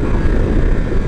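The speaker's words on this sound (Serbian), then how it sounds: "zvuk ovog motora koji je fenomenalan, odziv ovog gasa" A 2024 Voge 900 DSX motorcycle's engine drones steadily and loudly from close by while being ridden, a continuous rumble mixed with wind rush and no pauses.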